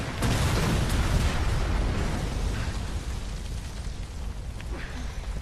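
A loud explosion in a Resident Evil game cutscene opens with a sharp boom, then a heavy rumble that stays dense and sustained before slowly thinning out over several seconds.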